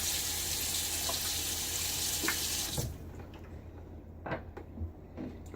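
Tap water runs steadily into a sink during a wet shave, a broad continuous rush that cuts off abruptly partway through, leaving faint drips and small clinks of the razor and basin.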